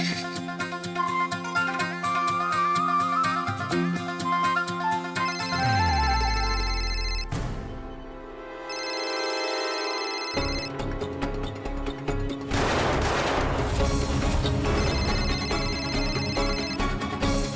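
A phone ringtone plays loudly and steadily over several seconds, a melodic electronic tune with a brief dip partway through.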